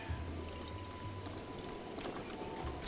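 Steady rain falling in Zelda Breath of the Wild, a soft, continuous hiss of drops with scattered louder patters and a low hum beneath, quiet and even throughout.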